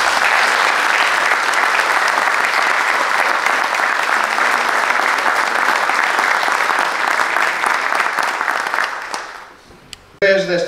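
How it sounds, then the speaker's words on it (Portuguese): Loud sustained applause from the audience at a gastronomic brotherhood's induction ceremony for São Jorge cheese, dense clapping for about nine seconds that fades out before a voice resumes speaking. "Para todos eles, pedia uma grande salva de palmas."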